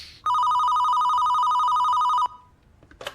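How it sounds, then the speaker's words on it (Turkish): A telephone rings in a Turkish indie horror video game, giving one loud, steady electronic trill that lasts about two seconds and then cuts off, leaving a quiet room with a faint click afterward. "Telefon çalıyor."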